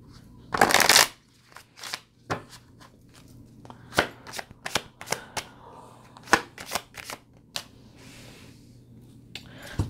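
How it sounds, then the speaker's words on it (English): A deck of cards riffled loudly once, then a series of sharp flicks and taps as cards are handled and shuffled, close and quiet between bursts. "Let me give it a little shuffle."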